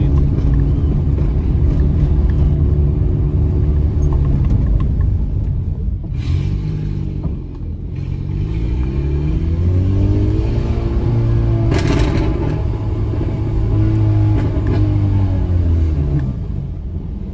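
Peugeot 206 1.4 exhaust heard from onboard while accelerating: a steady, loud low engine drone that swells and rises in pitch through revs, continuous throughout with no talk.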